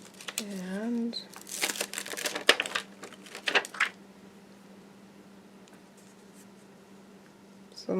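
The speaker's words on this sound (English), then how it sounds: "I went ahead and going to put those pencil marks in between my corners here" A pencil scratches across paper in quick, uneven strokes close by, bursts of scribbling for a few seconds followed by quiet, with a voice heard briefly at the start.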